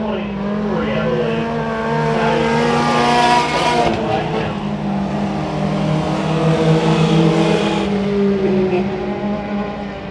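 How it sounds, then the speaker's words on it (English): The number 78 race car at Bakersfield Speedway roars through a heat race, its engine rising and easing in a steady throttle rhythm, with other cars droning nearby and faint crowd or announcer noise beneath. "You can hear him use that throttle rhythm."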